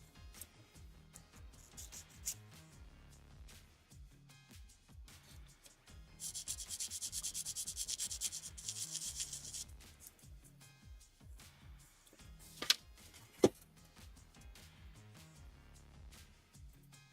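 Sanding away the leftover sprue nub on a plastic part from a Tamiya 1/24 Nissan Skyline GT-R V Spec R34 model kit, heard as soft close rubbing strokes that grow into a steadier, brighter scrape midway, with no talk.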